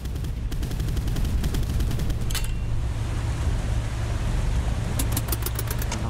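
Rapid machine gun fire in the Boat Crew naval combat game, with bursts of rattling shots at the start and end over a steady low boat engine rumble.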